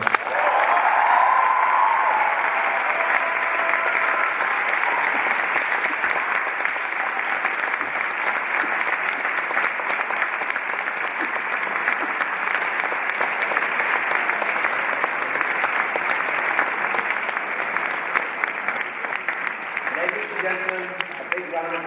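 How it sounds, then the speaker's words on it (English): A large audience claps and cheers in sustained applause that stays loud and steady throughout. "applause for Riz Ahmed"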